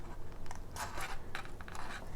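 Scissors snip through scored paper card while a slimline card is trimmed. The quiet crisp cuts come in a few short strokes, close up and alone.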